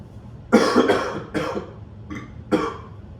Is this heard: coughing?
yes